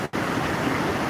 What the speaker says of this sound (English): This is the bottom of the falls.